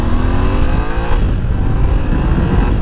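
A Yamaha Ténéré 700 World Raid motorcycle engine runs steadily while riding, with a loud, continuous droning rumble and rising engine tones over heavy wind noise. Close-up and unbroken throughout, with no talk.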